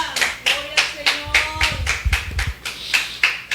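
A church congregation claps in a steady, rhythmic beat, loud and near, while low voices and music-like tones run underneath.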